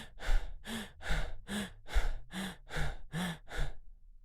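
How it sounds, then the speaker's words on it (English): A person over-breathes through the mouth, producing nine rapid, forceful breath cycles in a steady rhythm with no pauses between them, close and fairly loud with no speech. "started breathing like this. Over-breathing through the mouth for 30 minutes."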